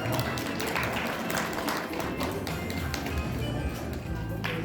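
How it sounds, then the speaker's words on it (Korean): Clapping from an audience at a 2025 Buddhist culture award ceremony in the convention hall of the Baekbeom Memorial Hall, a steady, dense patter that holds for several seconds with no talk over it. "여러분 큰 박수 부탁드리겠습니다"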